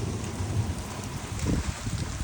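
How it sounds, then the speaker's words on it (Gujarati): Steady heavy rain pours down during a windstorm in a constant wash of noise, with a low, gusty rumble of strong wind beneath it. "હજી વરસાદ ચાલુ છે"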